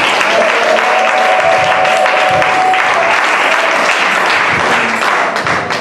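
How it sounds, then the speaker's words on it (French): A church congregation at a consecration service for deaconesses and preachers breaks into loud, sustained applause. The clapping fills the room continuously, with a few voices faintly audible underneath. "On acclame le Seigneur pour eux."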